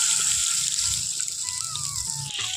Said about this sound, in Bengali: এখন আমি এখানে দিয়ে দিচ্ছি পরিমাণ মতো জল